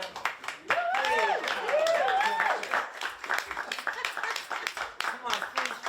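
Clapping and applause from a crowd at a live fishermen's poetry gathering, rhythmic claps running throughout alongside cheering and whooping voices and people talking over it.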